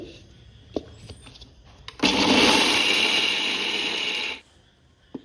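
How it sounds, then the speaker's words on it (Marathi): A kitchen mixer grinder whirs loudly as it grinds roasted chana dal into powder, a steady high-pitched motor roar of about two and a half seconds that starts abruptly and cuts off, with faint clicks before and after. "आता फुटाण्याची डाळ बारीक करून घ्यायची"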